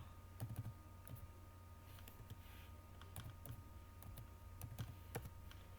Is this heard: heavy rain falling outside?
no